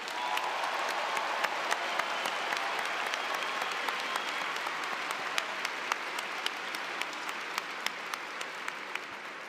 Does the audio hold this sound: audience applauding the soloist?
yes